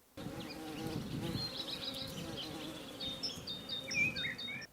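Honeybees at their hives in a honey forest, buzzing in a dense, steady, low drone that sounds close but quiet, with a few faint bird chirps above it.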